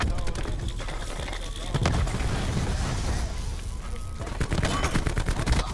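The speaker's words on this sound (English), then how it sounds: "Cluster grenade going" A cluster grenade goes off amid dense, rapid gunfire in a shooter video game featuring the DAEMON 3XB MKII weapon, with continuous loud bursts and booms while a player talks over the action.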